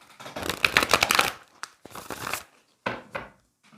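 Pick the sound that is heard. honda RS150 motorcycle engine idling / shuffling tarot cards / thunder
shuffling tarot cards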